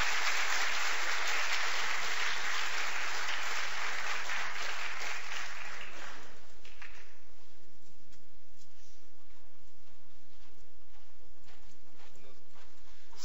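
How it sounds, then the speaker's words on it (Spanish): An audience at a Lima Valley tech talk applauds loudly for about six seconds, then the clapping thins out and fades into scattered claps. "Otro aplauso, por favor"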